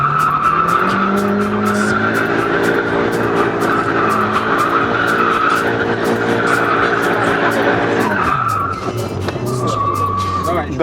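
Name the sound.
car drifting with skidding tires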